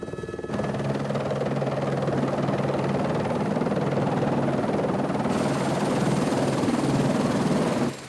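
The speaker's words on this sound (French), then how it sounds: "plusieurs rotations d'hélicoptères sont nécessaires" A helicopter flies through a polar ice setting on one of several shuttle rotations out to a ship, its loud steady rotor and engine drone continuous and close throughout.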